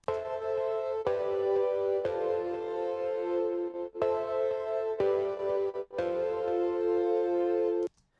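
Sustained piano-like chords in simple root position, changing roughly every second or two, with a slight gap before each new chord; no talking.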